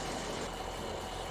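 A tractor engine idles in Farming Simulator 17, a quiet and steady low drone that continues evenly with no change in pace.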